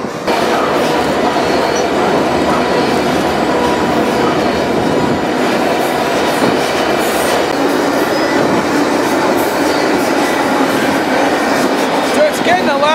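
Loud, continuous rumble of a freight train rolling along the rails through the North Dakota countryside, with steady clatter and occasional metallic squeal, close by throughout.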